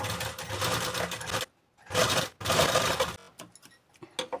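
A domestic sewing machine stitches a folded seam on a katori blouse being remade from an old one, running in two dense bursts with a short pause between, then trailing off into a few scattered clicks.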